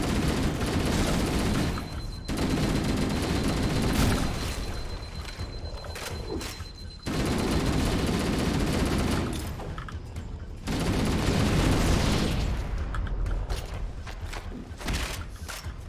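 Rapid, loud video-game pistol fire crackles in sustained bursts, interrupted by brief pauses and dull booms, the shots dense and close with a reverberant tail.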